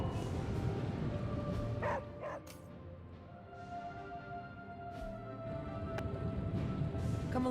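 Charlie, a dog in Marvel's Midnight Suns, gives a few short yips and barks scattered over a background of ambient hum, fairly close and moderately loud, without talking.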